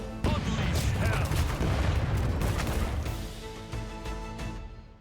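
Ship cannons firing in the pirate video game Rogue Waters, a dense, loud barrage of booming blasts and crashes rolling together over about four seconds before easing off, with no talk.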